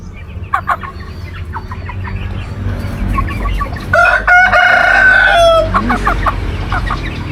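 Three-month-old chickens cluck in short bursts before a young rooster gives a loud, close, strained crow lasting a few seconds, followed by more scattered clucking.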